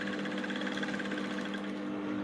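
A sewing machine stitching a dart on short pants hums continuously and close, with a rapid even needle rhythm and no pauses or voices.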